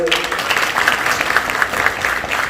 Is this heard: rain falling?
no